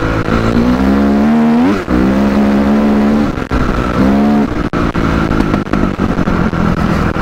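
Honda CRF 250 off-road motorcycle engine revving on a steep climb, loud and close, a sustained buzzing drone that swells in sharp rev bursts before settling back to a steady throttle.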